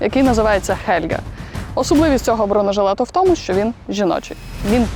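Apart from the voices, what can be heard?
No everyday noise stands out behind the speech.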